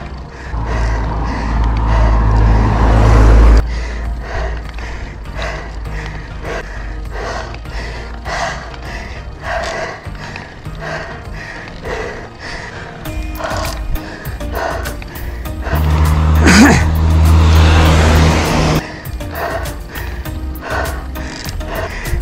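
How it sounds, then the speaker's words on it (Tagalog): A car drives past in the game Uphell, heard as low rumbling swells near the start and again later, over a busy bed of ticking, ratcheting mechanical sounds. "Kotse ah."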